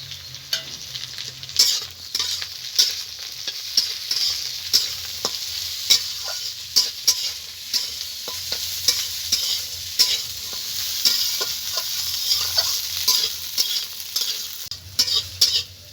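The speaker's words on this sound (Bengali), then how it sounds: "এই সবজির ভিতরে এগুলো দিয়েও একটু ভেজে নেব।" Vegetables fry with peas, cashews and raisins in a pan, giving a steady sizzle broken by frequent sharp scrapes and clicks of stirring, close and fairly loud with no talking.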